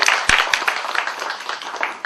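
A studio audience on the set of the TV serial Udann breaks into applause and clapping, a dense spread of claps with one sharp loud clap near the start, moderately close and continuous.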